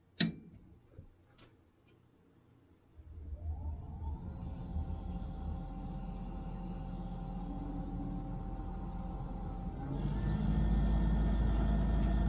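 A Trane XV90 furnace with a newly replaced inducer fan motor starts up after a few faint clicks. A low hum rises into a steady whir, then deepens and grows louder near the end as the burner lights.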